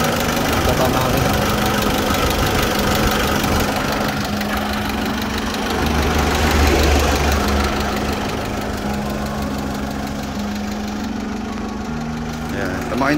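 A 1999 Mitsubishi L200 Endeavor pickup engine idles nearby with a rough, knocking rumble that holds steady throughout while someone talks over it.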